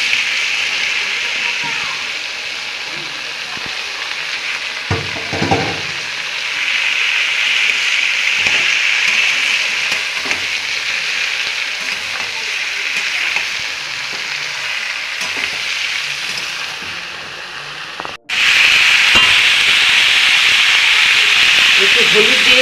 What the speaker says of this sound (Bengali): এবার আমি লাউটা দিয়ে দিচ্ছি।